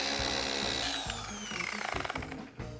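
Polishing with 1,000 grit abrasive, a steady close rubbing and whirring drone with a repetitive rhythmic pulse, loud throughout and ending with a brief drop.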